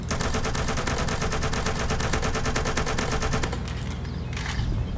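An AK-47 in the Roblox game Mad City fires in one long, fast, continuous automatic stream of even, rapid reports, loud and close, then stops and leaves a brief quieter tail, with no speech.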